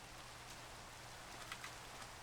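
Rain falls in Minecraft, a steady, faint wash of hiss with a few slightly brighter patters.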